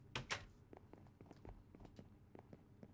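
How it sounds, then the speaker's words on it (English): In-game footsteps on wooden blocks in Minecraft: a steady run of sharp, clicky steps like heels on a hard floor, with two louder hits at the start, then even paced treads, moderately close and alone. "Wood walking sounds like you've got heels on."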